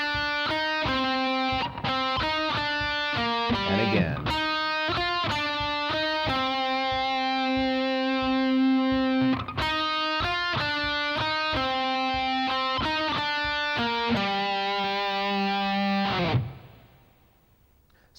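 Distorted electric guitar plays a high harmony lick: fast, sustained melodic notes in two repeated phrases, loud and close, ending with a decaying final note; a brief voice speaks between phrases.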